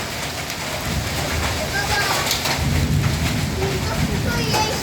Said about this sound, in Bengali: দেখুন কি পরিমাণে ঝড় হচ্ছে, বৃষ্টি হচ্ছে, আর সেই সাথে কি পরিমাণে ঝড় বৃষ্টি শেলা বৃষ্টি হচ্ছে